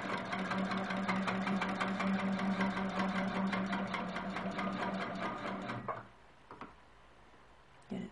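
A sewing machine quilting the outer border of a quilt hums continuously and close for about six seconds, then stops, leaving near-silence with a couple of faint clicks.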